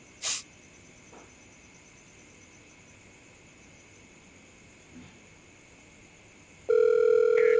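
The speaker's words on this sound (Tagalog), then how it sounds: "Ang ingay ng phone ko." Noise from a mobile phone: a faint steady electronic hum and hiss with a couple of brief clicks, then a loud harsh buzzing tone bursts in near the end and continues.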